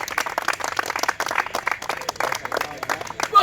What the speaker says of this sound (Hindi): दोनों बाबू के लिए जोरदार ताली मेरे भाई।